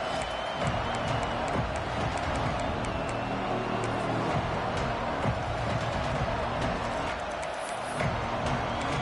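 Broad, steady roar of a college football stadium crowd, a dense wash of cheering and crowd noise sustained at even loudness throughout, with no distinct voices standing out.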